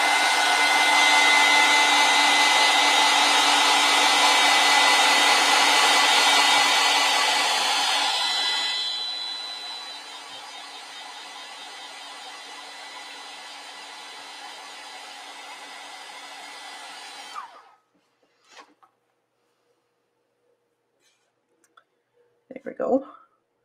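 Hair dryer drying acrylic paint on a canvas: a steady loud whirring blow that drops to a lower setting partway, then switches off, followed by a few faint clicks and handling noises.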